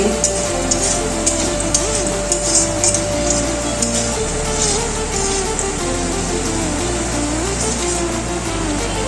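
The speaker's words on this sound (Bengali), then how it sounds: "এগুলো একটু হালকা ভাজা হবে" A steady sizzle of jackfruit seeds and cumin frying in a pan, dense and continuous, with faint background music underneath.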